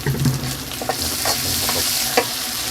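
Clams with basil stir-fried in a pan, with steady sizzling and frying punctuated by scraping stirs of a utensil against the metal, close and continuous with no talk.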